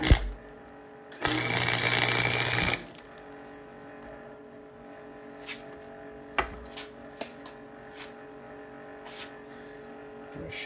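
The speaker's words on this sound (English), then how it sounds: "I finished welding that stud all the way around." An arc welder fixes a stud onto the exhaust of a 1943 Gravely Model L, making one loud, buzzing burst that lasts about a second and a half, followed by a low hum and a few sharp clanks and taps.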